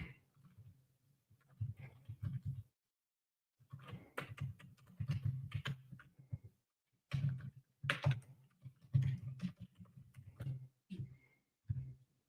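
Someone typing on a computer keyboard during a screen share, with bursts of close key clicks and thumps separated by short pauses.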